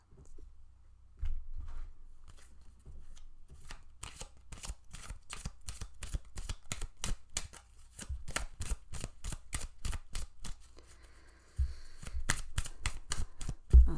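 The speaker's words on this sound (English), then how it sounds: "Oh, these are hard. These are hard to shuffle." Cards are shuffled repeatedly up close, rapid crisp riffling bursts with short pauses between, some faster flurries toward the end.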